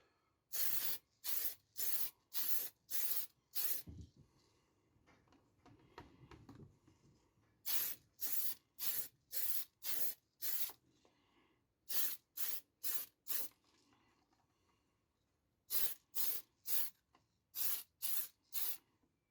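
An RC car body being spray painted with PS37 translucent red, in repeated short hissing bursts from the aerosol can, grouped in rhythmic sets with brief pauses, close and loud.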